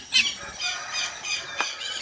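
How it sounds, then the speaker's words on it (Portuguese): Parrot squawking on a rural farm, a few loud, harsh, shrill calls in quick succession, close by and alone without talk. "Papagaizinho já tá dando show."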